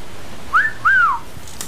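Two short rising-and-falling whistles from a player luring an enemy in Call of Duty: Advanced Warfare, close and clear, separated by a brief pause over a quiet background.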